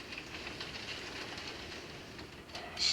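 A model-railway SD40-2 locomotive hauls a steel train on a layout, a faint, steady rolling clatter with light rhythmic clicks and a brief sharper hiss at the end.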